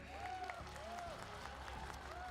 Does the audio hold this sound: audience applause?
yes